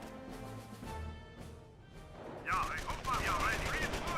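Distant rattling gunfire from a Company of Heroes battle crackles in bursts, growing denser and louder in the second half, with a voice briefly heard.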